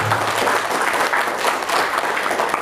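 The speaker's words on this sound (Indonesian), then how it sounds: "Tepuk tangan untuk ketua KNP Jawa Tengah." A hall audience at an Indonesian KNPI Central Java youth gathering claps loudly for the regional chairman, a thick, sustained wave of applause with no break.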